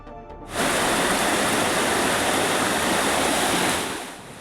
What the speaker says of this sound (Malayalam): വെള്ളം ശക്തിയായി വീടുകളിലേക്ക് ഇരച്ചു കയറി